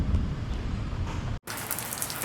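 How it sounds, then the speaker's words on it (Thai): Heavy rain pours steadily near Khao Chong Lom in Nakhon Nayok, Thailand, a dense, loud hiss that cuts out for an instant and then resumes. "ฝนตกหนักมากครับเพื่อนๆ"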